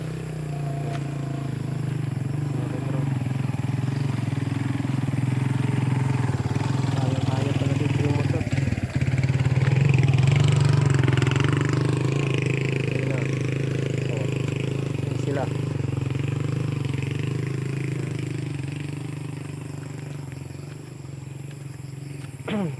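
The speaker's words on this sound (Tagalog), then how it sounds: "lakas ng motor niya" A motorcycle engine rumbles loudly and steadily nearby for the whole stretch, its low drone swelling slightly midway as it passes.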